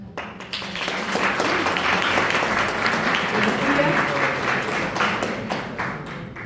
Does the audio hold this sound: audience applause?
yes